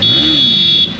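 A KTM RC 125 motorcycle horn sounds one loud, close, steady beep lasting under a second before it cuts off.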